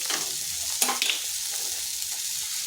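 Sliced kakrol (spiny gourd) frying in a pan with tomato and chili powder, a steady close sizzle with a brief clatter of the spatula stirring near the start and no voices.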